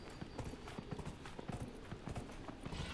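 Horse hooves clip-clopping in the video game Dragon Age: Inquisition, a steady fast patter of hoofbeats over busy game ambience, close and continuous.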